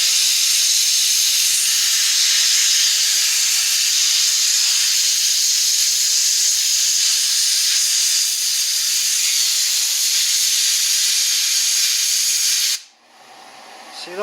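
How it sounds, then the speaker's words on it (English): Compressed air blasts through tiny varnished orifices in a Pietenpol aircraft fuel system, a loud continuous hiss that runs for about twelve seconds before cutting off abruptly. "we're going to have to blow those little orifices out"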